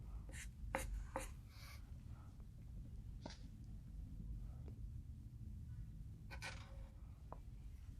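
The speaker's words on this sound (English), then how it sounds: "And draw a line like this." Pen or marker strokes drawing lines on paper while sketching a simple duck, heard as a few short, close scratchy strokes spaced apart over a quiet background.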